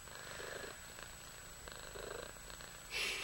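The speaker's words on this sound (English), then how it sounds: "She's just purring up a storm here." A cat purrs steadily up close in soft, rumbling pulses, with a brief louder rustle near the end.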